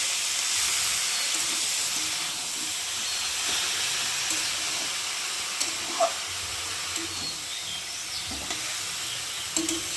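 Chopped banana flower fries with spices in a pan, giving a continuous close hiss and sizzle with occasional soft scrapes of stirring.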